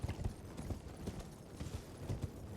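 A horse's hooves clip-clop in the video game Elden Ring, a quick, steady run of soft, fairly close hoofbeats with no voices over them.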